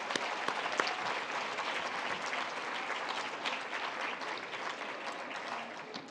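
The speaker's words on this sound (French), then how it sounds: "Donc, une bonne main d'applaudissements." Sustained audience applause at a 20th-anniversary gala, a dense wash of many hands clapping continuously at moderate distance, slowly easing toward the end.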